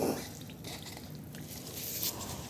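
Cement being stirred by hand in a small bowl, soft wet squishing and scraping close by, faint and continuous.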